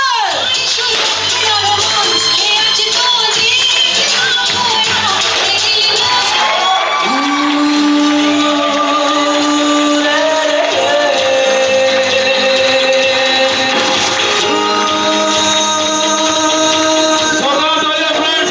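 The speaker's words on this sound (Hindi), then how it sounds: "जोरदार तालियां, जोरदार तालियां, जोरदार तालियां," An audience at an Emerald recognition honour ceremony cheers and shouts over loud music, a dense, continuous crowd roar with whoops rising and falling throughout, voices mixed in.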